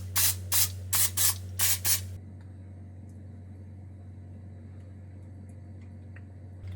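Cooking spray hisses into a muffin tin in six quick, close bursts, followed by a quiet steady hum from the kitchen.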